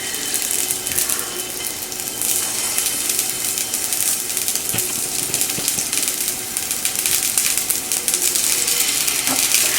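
Ground turkey kababs sizzle in a hot pan, a steady, dense frying hiss with faint crackles running unbroken and fairly close throughout.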